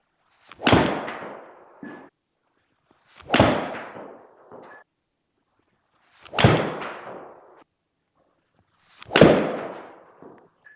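Golf hybrid club striking balls outdoors, four sharp, crisp impacts spaced about three seconds apart, each followed by a short fading whoosh and a faint secondary tap.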